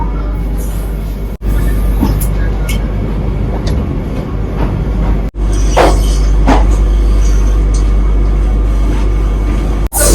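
Vande Bharat Express train pulling out of Prayagraj Junction, heard from on board as a steady loud low rumble with rattles and brief clanks, running throughout, with a few short dropouts.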